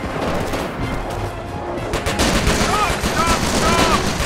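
Sustained machine-gun and rifle fire rattles around a base in Company of Heroes, a dense continuous fusillade growing louder toward the end, with game voices heard in the mix.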